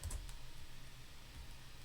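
Typing on a computer keyboard, soft quick key clicks in an irregular run, fairly close and quiet against a low background hum, with no talking.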